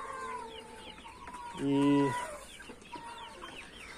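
Farmyard chickens cluck, with one louder harmonic squawk standing out midway, close by over a busy background of other fowl calls; a person's voice appears briefly.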